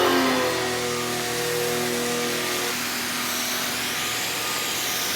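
A Blahst pressure washer runs with a steady, loud motor drone and a strong harmonic whine that holds an even pitch throughout, with no talking.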